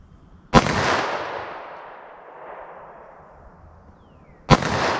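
Two sharp, loud gunshots from a .38 Special revolver with a 3.2 inch barrel firing Federal Punch rounds, spaced about four seconds apart, each followed by a long echoing decay outdoors.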